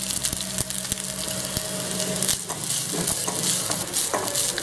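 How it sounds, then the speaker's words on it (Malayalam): Grated coconut roasting in coconut oil in a pan for a Malabar-style prawn curry, a loud, dense crackling sizzle with scattered knocks and scrapes of a stirring spoon against the pan. "തേങ്ങ ഇതിലേക്ക് ഇട്ട് കൊടുക്കാം."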